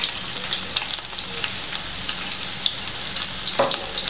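Onions fry in palm oil with a steady, crackling sizzle and scattered sharp pops, close and continuous without any speech.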